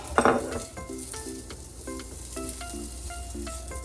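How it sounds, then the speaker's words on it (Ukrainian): Pork fat sizzles steadily in a pan at close range, with a loud crackling burst at the start and faint clinks of a utensil against the pan throughout. "І одразу ж відправляємо підсмажуватися"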